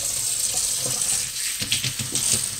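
Tap water running into an ice cube tray, a bright steady gush from the faucet with splashing and uneven spatter as the stream hits the compartments, loud and close with no talking.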